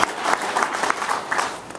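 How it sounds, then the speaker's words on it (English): A room full of people at a technology panel event clapping, a short burst of moderately loud, scattered applause fading toward the end. "Give a round of applause for the panel."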